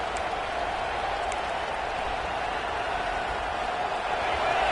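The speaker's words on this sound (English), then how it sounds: "The roar of the crowd trying to fuel this defense to keep them pinned in their own end." Stadium crowd roars steadily at a college football game between Arkansas and Oregon, a dense, continuous wash of cheering that holds throughout and swells slightly at the end.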